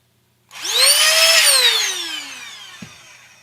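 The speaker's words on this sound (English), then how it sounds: "Where's my blower?" An electric air blower spins up abruptly, rising to a loud, close, high whine with a climbing then falling pitch before winding down, and a brief knock sounds near the end.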